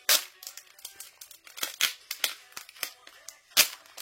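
Album packaging being torn open off camera, a run of sharp crackling rips and crinkles of plastic wrap and paper in quick irregular bursts, close and fairly loud.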